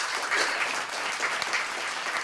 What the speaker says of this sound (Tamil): ஒரு உற்சாகமான கைத்தட்டல்கள்